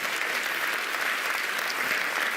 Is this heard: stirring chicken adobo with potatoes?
no